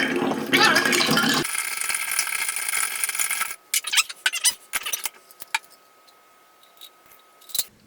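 A martini cocktail is stirred in a glass with ice, a bright rattling swirl of cubes against the glass up close, followed by scattered clinks and taps as the stirring slows and stops.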